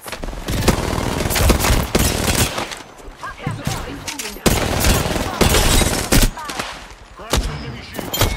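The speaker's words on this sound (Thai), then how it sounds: "นี่ปืนยิงไวขึ้นไหม" Gunfire in the Apex Legends shooter game, with rapid bursts of automatic shots and sharp single cracks in loud, dense volleys broken by short pauses, while a player talks over parts of it.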